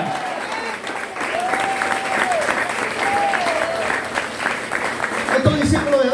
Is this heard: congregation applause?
yes